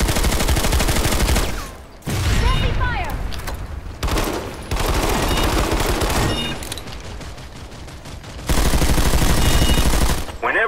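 Heavy gunfire in the PlanetSide 2 game comes in long, loud bursts of rapid shots with short pauses between, mixed with other battle noise and occasional voices.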